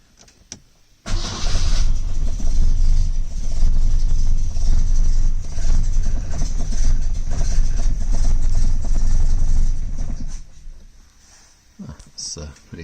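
A 1970 Lancia Flavia Milleotto LX with a freshly rebuilt engine cranks and fires up without choke, then runs loudly and steadily for about nine seconds before cutting out, with a few voices afterward.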